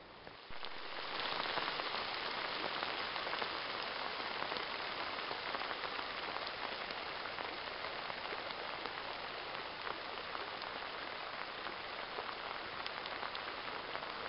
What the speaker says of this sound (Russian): самое интересное, теплый дождь